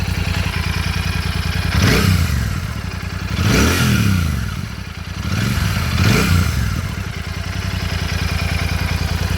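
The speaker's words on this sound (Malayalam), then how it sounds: "ഇതാണ് ഈ ഒരു വാഹനത്തിൻ്റെ എക്സോസ്റ്റ് നോട്ട് വരുന്നത്." A Royal Enfield Super Meteor 650 (2025) idles with a steady, thumping exhaust note, blipped three times into short, rising revs that fall back to the even twin-cylinder idle, loud and close.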